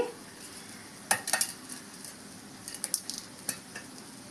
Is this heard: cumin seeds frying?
yes